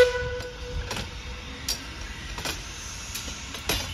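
Steam train moving at Tanfield Railway during a 1940s-themed weekend, a steady low rumble of rolling stock with brief clanks and hisses scattered through, heard from nearby outdoors.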